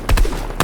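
Rapid gunfire from a video game arena solo match sprays a bush in a short burst of several sharp, loud shots close together.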